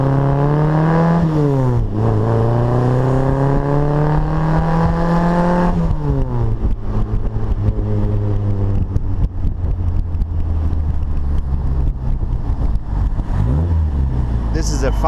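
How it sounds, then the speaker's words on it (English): Five-speed car with a 1275 engine, performance cam and Weber downdraft carburetor drives along, its engine droning loud and close with rising revs that drop at each gear change, steady cruising later on. "This is a 5-speed car with a 1275 engine and a better cam for performance."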